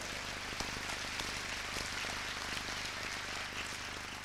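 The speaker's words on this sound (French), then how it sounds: "Allez, applaudissements." Audience applause at an apprenticeship awards ceremony in Tours, a dense, steady patter of clapping filling the room, moderately loud and continuous without speech.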